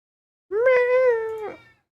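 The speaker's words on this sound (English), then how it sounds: "If I feed you, will you stop meowing?" A house cat lets out a single drawn-out meow, close and clear, rising then slowly falling over about a second in an otherwise quiet room.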